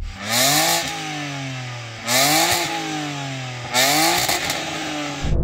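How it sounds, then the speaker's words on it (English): A BMW car engine with an aftermarket exhaust revs hard three times, each burst climbing to a loud roar before dropping back to a lower idle, close by. "I'm going to rev up this BMW."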